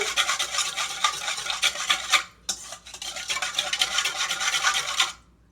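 A lemon poppy seed vinaigrette is whisked in a bowl, giving rapid scratchy metallic strokes in a continuous rhythm, briefly pausing midway, then resuming before stopping abruptly.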